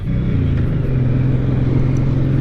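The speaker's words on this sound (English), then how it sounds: "Man, the gear shifts are so clunky and mechanical." A 2023 Suzuki Boulevard M109R B.O.S.S. cruiser motorcycle's engine drones loudly and steadily at close range as it rides, with a brief shift in engine pitch near the start where a gear changes.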